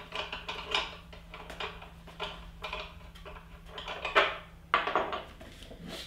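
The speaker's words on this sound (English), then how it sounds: "first you unscrew this lever here because that keeps the housing attached to it" A metal lever on a Mockmill grain mill housing is worked loose by hand, giving a run of close, irregular clicks, taps and scrapes with small knocks in between over a faint low hum.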